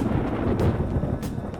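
Thunder in Persona 5 Royal, a deep rolling rumble with soft rain noise and a couple of brief brighter crackles, heard alone without talk.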